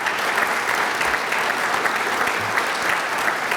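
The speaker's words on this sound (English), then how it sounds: "if you could give them a round of applause" An awards-ceremony audience claps for board members standing up, a steady roomful of dense applause running throughout at even loudness.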